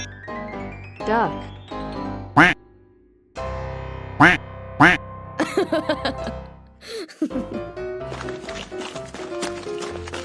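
Cartoon duck quacks repeat in quick bursts in a children's animal toy truck animation, alongside playful music and galloping clip-clop effects.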